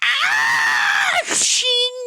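A voice imitates the raging screech-growl of a tiefling, one loud, shrill, strained cry lasting about a second and a half, then breaking into a rasping burst with a brief tonal tail.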